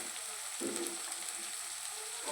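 Chili and garlic paste fries in a pan for a ridge gourd chutney, giving a steady close sizzle with a louder burst of crackling partway through and no voices.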